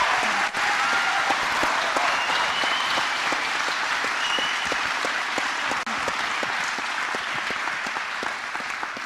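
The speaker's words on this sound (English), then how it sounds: "let's just have one last huge round of applause for the work it took you to get here" A large audience at an induction ceremony breaks into sustained, dense applause, many hands clapping steadily and evenly at close range for the full stretch, with no speech over it.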